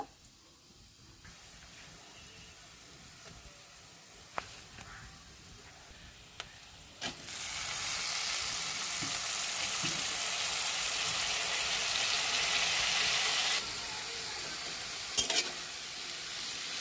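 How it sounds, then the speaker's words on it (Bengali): Bitter gourd fries in a pan, first quiet with a few spoon clicks, then a loud steady sizzle that swells and holds before easing slightly, with occasional sharp stirring knocks near the end. "উস্তা ভাজি করব"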